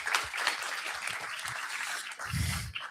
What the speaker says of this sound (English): Can we give our speakers a wonderful round of applause?